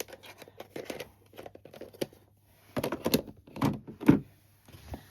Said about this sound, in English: So sorry about the noise. My ink has decided that they're going to